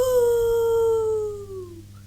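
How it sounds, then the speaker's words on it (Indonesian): A single drawn-out wolf howl rises clearly in a radio drama, a loud, close tone that slowly slides downward and fades out over about two seconds, heard alone. "dari jauh terdengar suara serigala"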